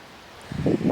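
Gusty wind buffets the microphone in low rumbling bursts that build over the second half, loud and close.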